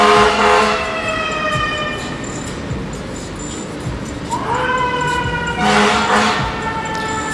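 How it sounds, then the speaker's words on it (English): A passing fire engine's siren wails loudly in the street, its rising and falling tones swelling as it nears and fading as it goes, over steady traffic rumble. "I'm gonna wait for this fire engine to go"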